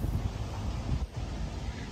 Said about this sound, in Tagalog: Nalakas pa ng hangin, kaloka.